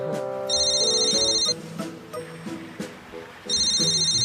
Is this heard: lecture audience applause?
no